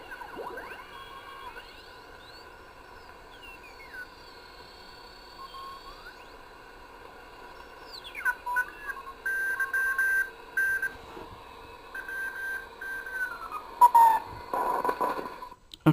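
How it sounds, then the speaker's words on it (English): CW Morse code signals tuned on an SX-140 shortwave receiver with regeneration off, thin wavering tones and sweeping whistles over faint hiss, with keyed bursts toward the end. "So we turn it off and go searching for CW signals."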